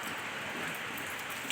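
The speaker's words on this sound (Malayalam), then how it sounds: "ഇതൊക്കെ തന്നെയാണ് നല്ല മഴ" Heavy rain drums on a sheet roof in a steady, hissing wash, close and even throughout, with a brief louder knock at the very end and no talk.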